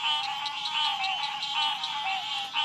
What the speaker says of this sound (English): There are at least 4 different kind of frogs calling all at the same time.